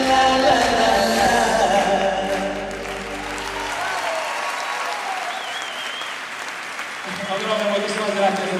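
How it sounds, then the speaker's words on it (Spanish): Loud audience applause at an outdoor benefit music festival in O Grove, breaking out as a sung tune with sustained tones ends and then continuing strong on its own, with crowd noise mixed in. "Estos aplausos llegan aquí adentro"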